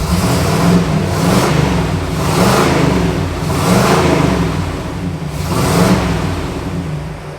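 A Pontiac Firebird engine runs close by, running poorly after warming up, revving up and down in repeated surges with a rough, slightly uneven idle between them.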